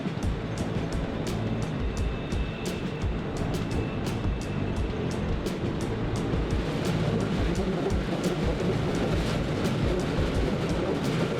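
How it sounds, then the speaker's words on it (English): A vintage steam locomotive hauls a long overnight train through industrial Melbourne toward Geelong, heard from the rear as a steady rolling rumble with scattered sharp clicks and knocks from the wheels and cars. "with the steam locomotive making all the right noises"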